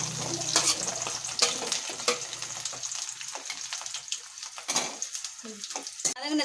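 Onions fry and get stirred in a pan for a ginger pickle, with a steady sizzle broken by sharp spatula clicks and scrapes against the metal.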